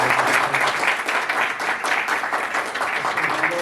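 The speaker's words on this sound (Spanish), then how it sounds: "un aplauso para ellos" Audience at an international social sciences symposium applauding, a continuous full-room clapping that stays steady and loud throughout.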